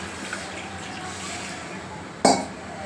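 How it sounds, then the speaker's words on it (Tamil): Water poured into a pot of spicy mochai (field bean) kara kuzhambu curry: one short splashing gush near the end, over a steady low kitchen hiss. "தண்ணி ஊற்றணும், தேவையான அளவு தண்ணி ஊற்றணும்."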